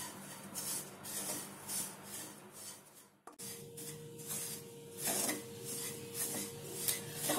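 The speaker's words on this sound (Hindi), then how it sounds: "हमें इसको लगातार चलाते हुए भूनना है।" Desiccated coconut roasts in a pan, stirred continuously with scraping, rubbing sweeps and a brief metallic knock partway through, close and moderate, with no voices.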